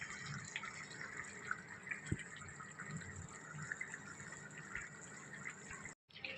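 Water is poured into chicken cooking in a pot, a faint, soft trickle and splash that runs quietly and steadily, with a brief drop-out near the end.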